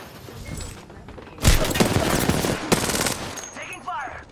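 Bursts of automatic gunfire in the Apex Legends battle royale game, a dense barrage of rapid shots from about halfway through that fades out near the end, with a player's voice shouting over parts of it.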